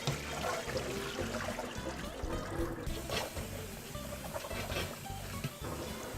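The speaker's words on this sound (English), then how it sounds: "We drain all the water." Rinse water pours and trickles out of a bowl of rinsed, salted radish as it is drained for oyster bossam kimchi, a steady close splashing with gurgling drips continuing throughout.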